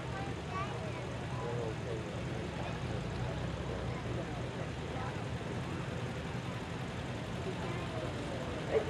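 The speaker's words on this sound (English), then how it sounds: "Mark Window from Edgar is driving his 1956 Ferguson 40" A 1956 Ferguson 40 tractor drives in an antique machinery parade, its engine a steady, unbroken drone for the whole stretch, with a brief louder bump right at the end.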